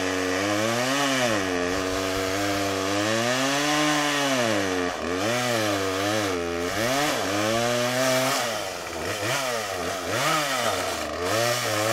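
A chainsaw runs continuously while cutting a log, its engine pitch rising and sagging under load as it strains and overheats, loud and close with no talking.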